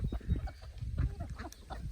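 Ducks and chickens on a farm at feeding time make brief nasal honks and quacks with scattered clucks, close by and irregular over a couple of seconds.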